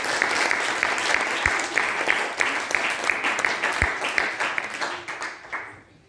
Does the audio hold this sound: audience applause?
yes